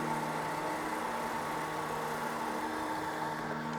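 A Pitboss Tire Titan machine trues a used kart racing tire, giving a steady, loud mechanical drone with a constant whirring hum and no pauses, close by and with no talk.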